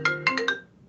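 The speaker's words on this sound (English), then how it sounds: "Mute your phone, Tim." A mobile phone ringtone plays four quick bright electronic tones in a rapid rising pattern, fairly close and clear, with no talk over it.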